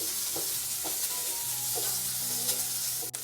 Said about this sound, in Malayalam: നന്നായിട്ട് സവാളയൊക്കെ ചേർത്ത് കൊടുത്തിട്ട് ഒന്ന് വഴറ്റിയെടുക്കാം.